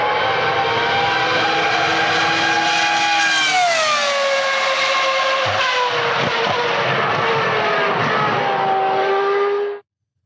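A Formula 1 race car engine screams loud and close for about ten seconds, its high whine dipping and climbing through shifts before it cuts off abruptly.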